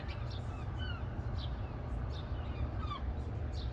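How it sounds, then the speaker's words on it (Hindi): Several birds chirp and tweet in short bursts over a steady low rumble of background noise, the calls scattered and moderately distant. "परिंदों की चहचहाने की आवाज़ें आ रही हैं"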